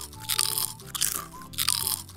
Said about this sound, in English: the delicious, crispy, cheesy crunch of a Schmorito nacho cheese flavored chip